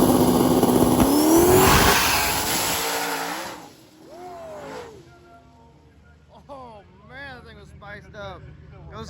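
Quick cars launching down a street-racing drag strip, a loud roaring engine building in pitch over the first few seconds, then fading as another motor revs nearby, with voices talking over the track noise.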